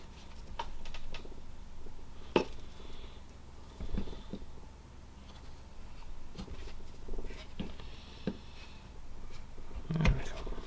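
Knife blade pressing a stop cut into wood while whittling a big-hat gnome head, giving a few quiet, close cracks and scrapes spread across a soft, steady background.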